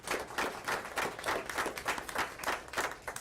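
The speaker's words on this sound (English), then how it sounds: "Can we give them a round of applause?" Applause from an audience at a school board meeting honoring state qualifier students, a steady wash of many hands clapping throughout at moderate level.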